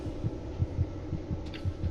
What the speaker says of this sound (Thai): เสียงหัวใจเต้นเนาะ